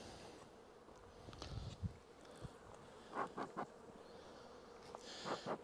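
Honeybees buzzing around hives in an orchard apiary, a soft continuous hum with occasional louder passes as individual bees fly close by.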